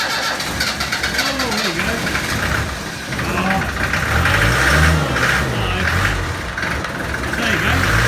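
A Land Rover Series 3 diesel engine, a barn find, cranks and catches after its glow plugs heat, then runs with a low rumble and some knocking. People talk over the engine.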